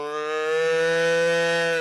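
A single cow gives one sustained, steady moo lasting nearly two seconds, loud and close, with no other sound around it.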